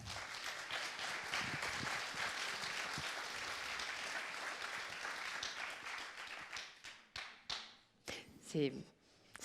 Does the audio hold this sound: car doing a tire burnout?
no